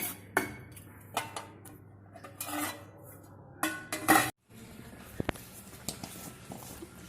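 Masala for Kashmiri aloo dum is stirred and roasted in a pan. Scattered spoon scrapes and metallic clinks come close and irregular, with brief louder bursts and a short silent gap, and nobody speaks.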